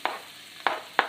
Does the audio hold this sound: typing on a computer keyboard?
no